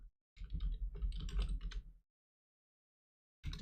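Rapid bursts of computer keyboard typing during a developer's Git and SSH setup, a dense flurry of close keystrokes for about a second and a half, then silence before another short burst.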